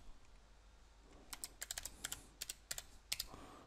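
Typing on a computer keyboard produces a short, faint burst of irregular key clicks in a quiet room, lasting just a few seconds.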